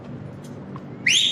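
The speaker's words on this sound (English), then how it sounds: "If there's no radio, they blow a whistle, make it loud." A short, shrill whistle blast cuts in at the end after a moment of low background rumble, during a US Army National Guard combat patrol exercise on Guam.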